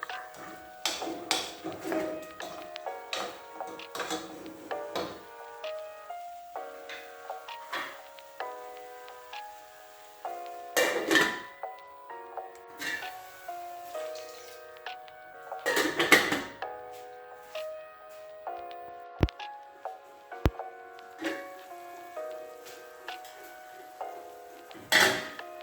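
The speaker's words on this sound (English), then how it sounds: "I'm just gonna stir this so that the seasoning and salt will be well distributed" A spoon stirring okra soup in a metal pot, producing a run of ringing clinks and knocks against the pot's sides in irregular bursts, close and fairly loud, with quiet pauses in between.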